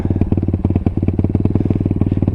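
Yamaha Wolverine 350 ATV engine with a carburetor idling close by after a mud ride, a steady rapid putter of regular firing pulses with slight unevenness and no talk.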